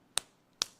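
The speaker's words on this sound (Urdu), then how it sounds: "یہ الٹے سیدھے ہاتھ کو الٹے ہاتھ پہ ماریں گی" Two sharp slaps of the back of one hand struck against the other, about half a second apart, close and crisp with nothing else heard.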